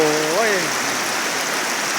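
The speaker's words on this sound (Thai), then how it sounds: "ฟ้าฝนก็รู้สึกเป็นใจนะเทลงมาเทลงมา" Rain pours down on a date palm orchard in a dense, steady hiss that runs throughout, with a voice heard briefly at the start.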